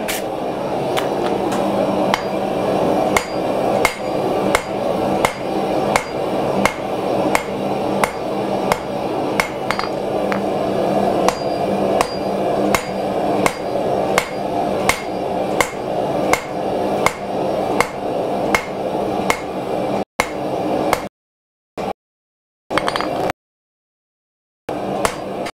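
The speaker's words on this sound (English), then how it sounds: "take another heat here with a hand hammer." A hand hammer strikes hot steel on an anvil while a spear is forged, in a steady, rapid series of sharp, loud metallic blows that continue for about twenty seconds before breaking into a few short, separate bursts.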